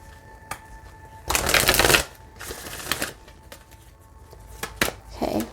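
Oracle cards being shuffled by hand during a chakra guidance reading, with a dense riffling burst in the middle and a shorter one near the end, separated by soft handling taps and rustles, close and moderately loud with no voices.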